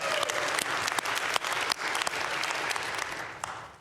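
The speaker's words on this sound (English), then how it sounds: "You should give them a round of applause." A church congregation breaks into applause, a brisk, dense patter of clapping with a few sharp standout claps, sustained and then tapering slightly.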